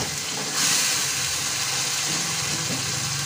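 Spices for tuna rica-rica sautéing in a hot pan give a steady, loud hissing sizzle that swells slightly after the first half second and carries on evenly without any voices.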